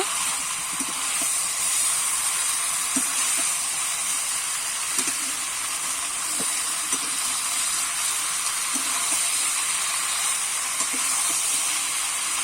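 Spices fry and sizzle in a pan for a grass carp curry, a steady hiss with a few soft knocks of stirring now and then.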